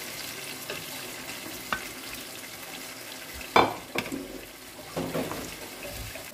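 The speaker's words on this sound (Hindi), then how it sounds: "पहले चिकन लगाता हूँ, टमाटर थोड़े गर्म हो गए" Chicken cooking in a pan with warm tomatoes at home: a low steady sizzle underneath, with occasional sharp clanks and stirring scrapes, a louder clatter midway, no talking.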